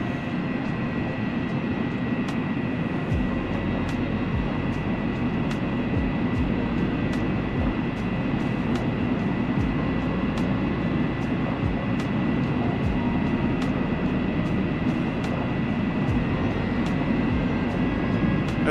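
Steady, loud drone of a Maddog X airliner's engines in flight in Microsoft Flight Simulator over Iceland, a continuous broadband roar with faint ticking and no voices.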